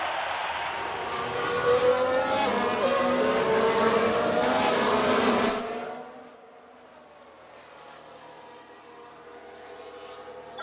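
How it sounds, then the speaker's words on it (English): In the F1 Manager 2022 racing game, a loud roar of race cars dominates, then cuts off sharply and gives way to a quieter, lower engine sound with a faint high whine, suggesting tyres locking up under heavy braking. "Sounds like someone's locked up."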